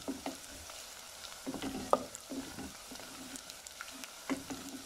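Onions fry in hot oil in a pan for daal maash, a quiet sizzle with occasional soft crackles and stirring clicks, close but faint.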